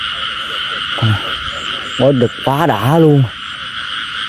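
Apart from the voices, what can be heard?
frog croaking in a field at night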